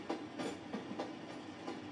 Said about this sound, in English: It's an absolutely huge engine. It's a huge train